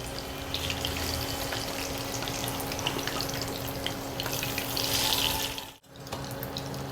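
Fish frying in hot oil just after being turned over, a steady, dense sizzle that fills the whole stretch close up, with no voices over it.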